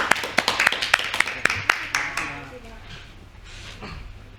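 Quick rhythmic hand claps from a group of students in a classroom, about a dozen sharp claps close by over two seconds, then fading into room noise.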